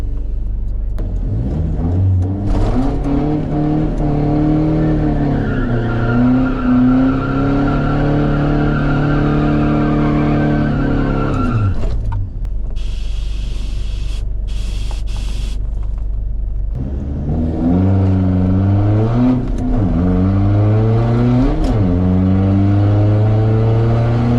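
A car launches hard with wheelspin and tyre squeal while trying for grip without axle hop, the engine revving up through harmonics for about twelve seconds, pausing, then revving again, loud and close throughout.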